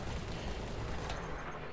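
Ship weapons firing in the space game Elite: Dangerous, multi-cannons on a Corvette: a dense, continuous rattle of rapid shots under a broad roar, steady and moderately loud with no pauses.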